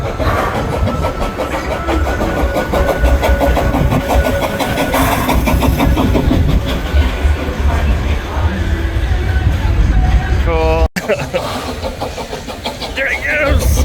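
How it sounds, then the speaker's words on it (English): Loud, continuous rumbling engine of a small amusement park train at Six Flags passing close by around a bend, with a brief squealing whistle-like tone near the end and voices underneath. "I hear the train coming around the bend. I do hear the train."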